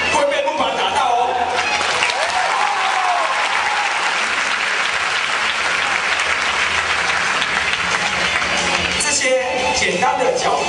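A crowd at a university taekwondo show for freshmen gives loud, sustained applause that fills the whole stretch, with scattered shouts and voices mixed into the clapping.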